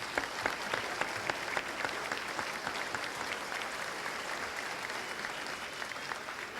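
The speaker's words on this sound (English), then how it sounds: "please give a round of applause to all the people who put a lot of time and effort into making this happen" An audience at an awards ceremony gives sustained applause, a dense, even wash of many hands clapping that holds steady throughout with no speech over it.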